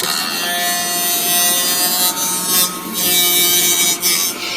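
The small fan motor of a USB car vacuum cleaner whines steadily with a buzzy, rattling hum that wavers slightly in intensity throughout.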